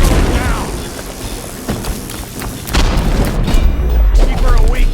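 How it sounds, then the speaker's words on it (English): A loud, booming explosion in the video game Dishonored with heavy low rumble, followed by crashing debris and shouting voices in the background. "Get down! Explosion!"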